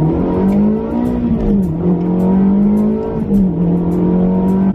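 Ferrari 360 Modena engine droning loudly with slow F1 transmission gear shifts, the steady tone dipping briefly at each shift, close and continuous.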